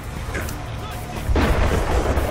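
Gunfire in the Deadpool video game on PS3, a dense, booming rumble of shots that grows louder and heavier halfway through, with no talking.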